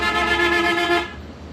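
A loud, sustained horn blast with a steady tone, holding for about a second before cutting off into quiet background.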